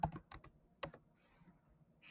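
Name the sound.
typing on a computer keyboard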